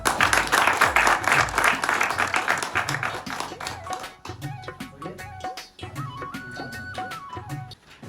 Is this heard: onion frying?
no